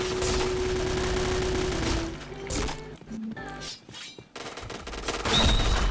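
Rapid gunfire bursts in the video game Point Blank, loud and dense in the opening seconds, then choppier shots and effects with game music through the rest; no talk.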